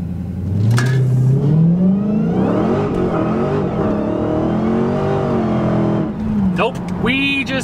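A Dodge Hellcat launches from a dead stop into a loud, sustained burnout, its engine roaring and rising in pitch for several seconds before easing off near the end.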